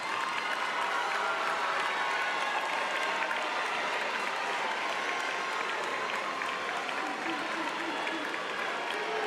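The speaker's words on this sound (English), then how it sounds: "give a round of applause to your families who have supported you" Graduation ceremony crowd, seniors and guests applauding families, a sustained wash of many hands clapping at an even level, with scattered cheers and murmured voices mixed in throughout.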